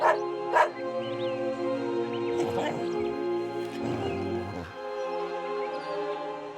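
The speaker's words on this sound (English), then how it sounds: "He lived among the wild street dogs" Wild street dogs bark and yip in sharp, close bursts, mixed with whimpering cries, over a steady tonal background.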